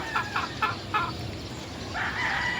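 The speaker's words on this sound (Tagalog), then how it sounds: "Ito ang aming broodcock dito, yung 2-time winner na bulik" A bulik broodcock rooster makes a few short, fairly faint clucking calls, followed by a brief crow-like call near the end.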